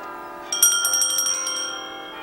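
Church bells ring out with bright, sustained tones, striking several times over a low steady hum, then fading into a lingering resonance.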